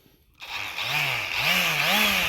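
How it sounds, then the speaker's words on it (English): A cordless die grinder runs steadily while porting SVE X302 cylinder heads, a high whine starting abruptly and holding with a wavering pitch, loud and close. "But this is like a die grinder,"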